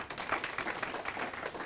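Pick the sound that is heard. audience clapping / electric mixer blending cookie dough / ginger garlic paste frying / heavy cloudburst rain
audience clapping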